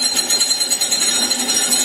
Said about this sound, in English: The noise you're hearing is actually the hammers knocking on the bottles